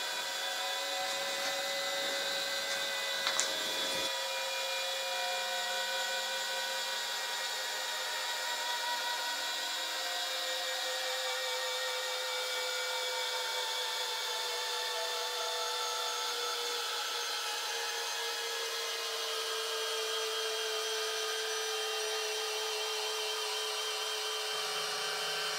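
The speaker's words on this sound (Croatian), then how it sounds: "Konkretno sada ćete vidjeti kako Boschova GSR 18V150C ovo zašarafljuje." Bosch GSR 18V-150C cordless drill driving a one-metre screw into wood: a sustained high motor whine under load, loud and continuous, starting after a short clatter and running almost to the end with no talk.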